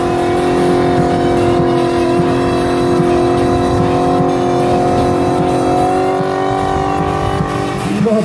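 Drift car at the second round of the 2016 Latvian drift championship in Jelgava, holding a loud, sustained, steady engine drone that rises as it revs near the end.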